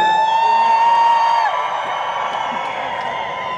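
Crowd cheering and whooping at a Comic Con Portugal 2018 panel, loud and sustained for the whole stretch, with shrill whistles and high shouts riding over a dense wash of voices before easing slightly.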